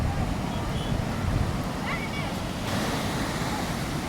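Sea waves break on a beach at Puri, a loud continuous surf roar with wind buffeting the microphone, and a voice is faintly heard beneath the waves.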